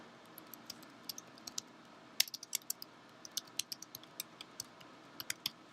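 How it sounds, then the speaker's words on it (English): A computer keyboard typed on for a short sentence: quiet, crisp key clicks in uneven bursts, close by, over a faint room hum with no talking. "I'm just going to type a brief sentence"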